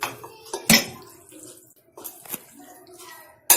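A spoon clinks and scrapes against a bowl as chicken is mixed with turmeric, red chilli powder and Malvani garam masala, with sharp metallic taps between softer wet stirring, close and intermittent.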